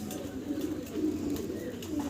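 Pigeons at a pigeon farm coo steadily in low, throaty overlapping murmurs, with several birds close by and no talk.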